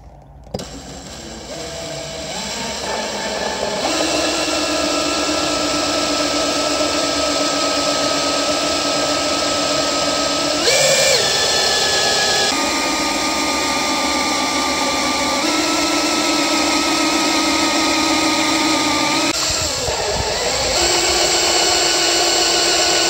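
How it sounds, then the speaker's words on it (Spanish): A power drill bores holes in a car bumper for parking sensors, whining loudly and steadily at close range, with its pitch stepping up and down as it cuts and pausing briefly twice. "Ahora vamos a realizar los agujeros."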